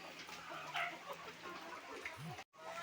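Chickens cluck close by in a farmyard, a steady run of soft clucks with brief louder calls and one faint rooster-like note, mixed with background noise.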